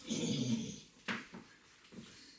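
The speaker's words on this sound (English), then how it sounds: "You might hear some crying because we have a little foster dog." An anxious little foster dog cries and whimpers indoors, first with a drawn-out high whine, then a few short, faint whimpers spaced apart.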